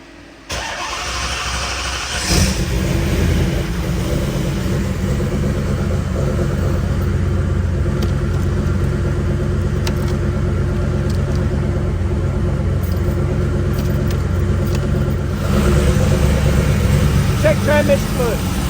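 A truck engine with a shuddering steering wheel cranks and catches, then settles into a steady, loud, close idle rumble that runs on for many seconds, briefly revving near the end.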